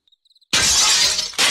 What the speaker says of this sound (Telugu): కప్పులన్నీ కింద పడిపోయినట్టున్నాయి